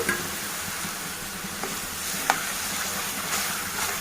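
Poppy seed, coconut and cashew paste frying and being stirred in a pan for mutton kilikili, a steady soft sizzle with scraping stir strokes and a few faint clinks throughout.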